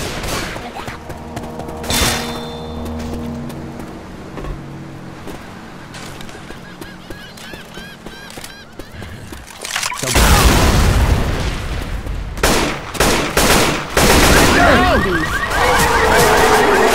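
Gunfire at zombies in Left 4 Dead 2: loud bursts of shots and booms, sparse at first and then a dense, heavy barrage in the second half, with game sounds mixed in.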